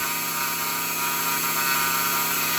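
A homemade mini milling machine cuts into wood, producing a steady, loud, high-pitched whine with a grinding buzz that holds constant throughout, close up and with no voices.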